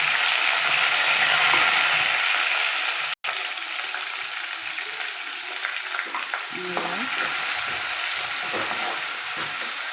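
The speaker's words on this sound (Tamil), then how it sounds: "நல்லா வதக்கி நல்லா கோல்டன் ப்ரௌன் கலரில் வெங்காயம் வரணும்" Onions sauté in hot oil with cinnamon, fennel and bay leaf while rava kichadi is being made, giving a continuous close sizzle with a momentary break and occasional stirring scrapes; no speech.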